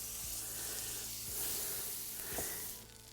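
Butter sizzles in a hot, heavy cast iron pan over a wood fire, a steady close hiss that swells and eases over a few seconds with faint clicks and a brief louder flare near the end.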